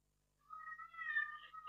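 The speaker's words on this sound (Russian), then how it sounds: "Слышите? Это кошка." A cat gives one drawn-out, fairly close meow that rises and wavers, heard alone against a quiet room.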